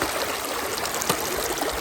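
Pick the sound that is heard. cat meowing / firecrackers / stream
stream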